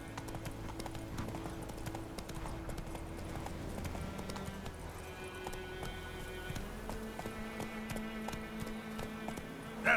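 Roach the horse gallops in The Witcher 3, with a rapid, steady run of hoofbeats over a background of sustained music tones lasting the whole stretch.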